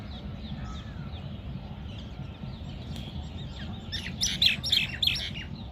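A myna hops near an empty nest and calls, a few sharp chirps and whistles clustered toward the end over a steady low rumble of background noise.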